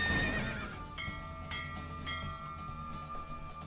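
A horse neighs loudly right after a race in a video game, a whinny with a few clip-clop-like beats following, set over an ongoing game music bed.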